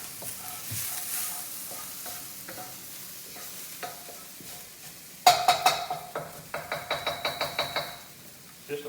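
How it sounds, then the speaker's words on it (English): Garlic and shallots with cilantro sizzle softly in a pan, then a series of sharp spoon knocks and stirring clatters against the pan follow in quick succession. "We're sweating the garlic and the shallots with the cilantro"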